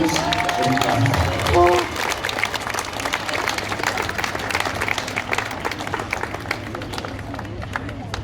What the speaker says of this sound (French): Un petit applaudissement d'encouragement.